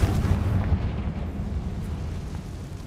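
Confringo fire-spell blast in the Hogwarts Legacy video game, a single heavy explosive boom that hits loud at once, then rumbles and fades over a few seconds.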